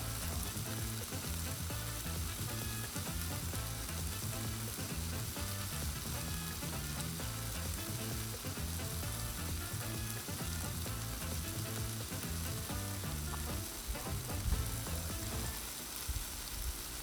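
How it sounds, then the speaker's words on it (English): Kung Pao chicken sizzles and crackles steadily on a hot Blackstone 22-inch griddle, a loud continuous frying hiss close up with no voices. "You can hear that sizzle."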